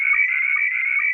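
A steady, buzzing radio signal tone sent through a Signalink soundcard holds without a break for about a second, clear and moderately loud, with no voices.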